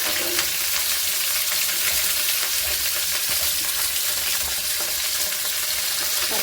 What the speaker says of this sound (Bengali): পেঁয়াজটা দিয়ে দিলে তেলে, গরম তেলে